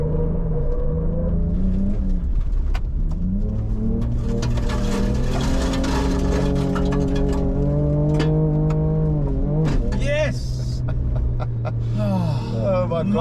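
A Ford Ranger Raptor pickup drives hard off-road, its engine rumbling and revving up and down through gear changes, loud and close throughout, with people talking and exclaiming over it.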